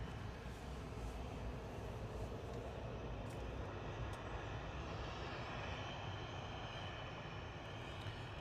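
An EasyJet Airbus A320neo arriving from Geneva at Manchester Airport gives a faint, distant, steady engine roar that holds evenly throughout with no voices.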